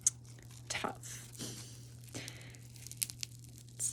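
Slime is squeezed and worked by hand up close, giving a few short crackly, crunchy bursts and soft squishes among quieter handling noise.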